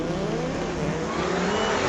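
An Audi and a big Dodge drag race down a raceway strip. Their engines give a loud, continuous roar that fills the whole stretch, with no talk over it.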